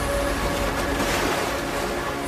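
Ocean waves washing against an Indonesian fishing boat at sea, a steady broadband wash of water and wind, moderately loud and continuous with no voices, ending in a sudden low thump.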